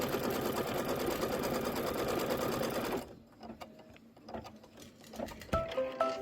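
An embroidery sewing machine stitches out a tack-down on a quilt block. A steady, rapid mechanical hum runs for about three seconds, then stops, leaving a few scattered clicks and clatters nearby.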